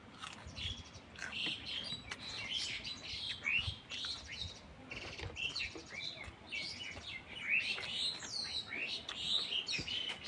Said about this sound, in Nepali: के कराउँछ चराहरू।